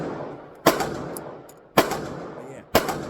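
A Derya DY9 pistol fires single rounds during a long burndown session: three sharp, loud shots spaced about a second apart, each with a short ringing tail.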